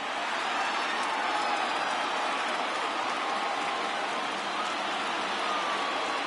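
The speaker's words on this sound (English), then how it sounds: "Crowd gets up for the 3-2." A baseball stadium crowd in Oakland rises and cheers ahead of a 3-2 pitch, a dense, steady roar of distant voices filling the space without break.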